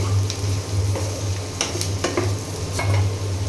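Osta frying with softened onions in a pan, a loud continuous sizzle broken by several sharp scrapes and clinks of a utensil stirring against the pan.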